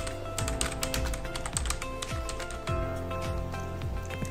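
Fast typing on a computer keyboard, close and clear, with dense irregular key clicks and occasional heavier taps over a steady background hum.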